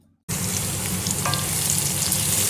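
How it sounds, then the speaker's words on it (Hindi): Onions frying in a pan to light brown while seekh kabab curry is prepared, a steady loud sizzle that starts abruptly and holds, with a faint clink partway through. "ये प्याज ब्राउन करने के लिए रख दिए, लाइट ब्राउन करना है।"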